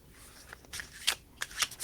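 Tarot cards are shuffled by hand in a few quick, soft riffling bursts, close and quiet with no talk.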